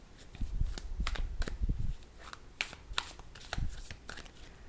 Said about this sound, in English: All right, 5 more shuffles.